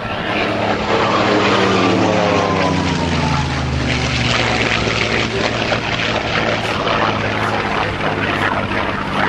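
A Messerschmitt Bf 109 fighter plane flies past loudly, its piston engine and propeller roaring with a pitch that slides downward as it passes, then settling into a sustained drone.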